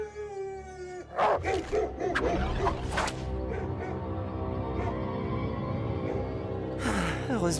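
Hunting dogs in a cartoon, several barks, yelps and howls breaking out in a loud cluster after a sustained tone, mixed with dramatic music and scattered voices.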